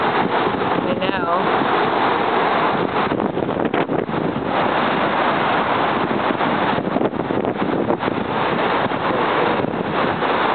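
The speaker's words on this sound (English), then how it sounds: "It's windy." Strong wind from Hurricane Katia roars steadily across an outdoor microphone, a loud, continuous buffeting rush with gusty surges throughout.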